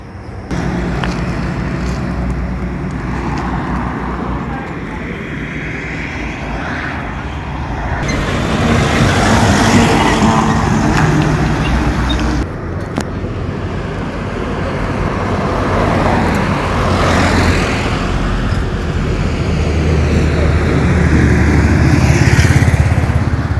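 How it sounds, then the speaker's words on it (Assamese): Heavy vehicles pass on a national highway near Jamugurihat with a loud, continuous roar of engines and tyres. The rumble swells and eases as each vehicle goes by, with no talking. "ডাঙৰ গাড়ী আহিলে ভাইব্ৰেশ্যনৰ তলটো খুলি থৈ গৈছে।"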